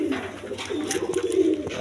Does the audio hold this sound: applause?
no